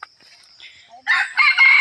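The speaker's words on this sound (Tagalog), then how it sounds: "ganda ng tilaok ng labuyo ko" A red junglefowl rooster crows nearby, a loud, bright, strained call rising in the second half after a few faint chirps, heard alone.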